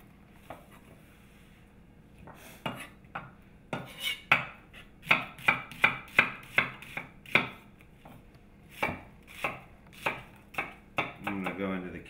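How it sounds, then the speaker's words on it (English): A knife rough-chops an onion on a cutting board with a steady run of close, crisp thuds, starting sparse and settling into a brisk rhythm before a quick flurry of rapid chops at the end. "Rough cut an onion."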